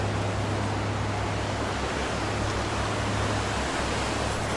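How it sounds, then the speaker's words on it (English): A river rushing past the Nantahala Outdoor Center along the Appalachian Trail, heard as a steady, dense broadband roar of flowing water that continues without pause and carries no voices. "It's a cool river here."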